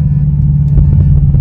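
A Jaguar F-Type SVR sports car rumbles with a deep, loud engine roar, steady and close, with slight pulsing throughout and no talking.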